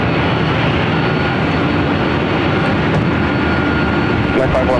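Loud, steady broadband roar of a heavy airliner departing runway 24 left at LAX, continuous through the whole stretch, with faint talk and radio chatter in the background.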